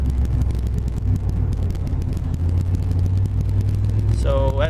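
A turbocharged car engine rolling on from 45 and accelerating, a loud close droning roar with heavy wind buffeting that ends in a rising whine as the gears shift up, heard from inside the car.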